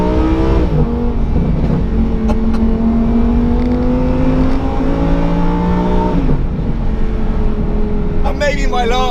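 Lamborghini Huracan Evo rear-wheel drive accelerating hard on twisty roads, a loud engine rising in pitch through the gears with a shift dip midway, heard from inside the cabin with wind noise and a voice speaking over it.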